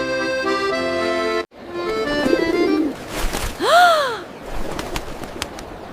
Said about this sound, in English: Peter, there is a very large bird looking at your hat.